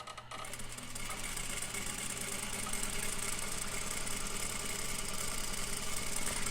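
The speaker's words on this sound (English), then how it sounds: "Presser foot down. We're going to start with the back stitch. And then we will sew" An industrial overlock sewing machine runs a back stitch on a seam, a fast, steady mechanical whir with rapid rhythmic knocking, constant and fairly close after a brief start.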